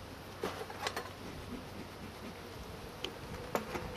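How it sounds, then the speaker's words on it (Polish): Honey bees crowding a feeder that is failing, giving a faint, steady nervous hum with a few short, louder buzzes as single insects pass close by. "pszczoły zachowują się dosyć nerwowo"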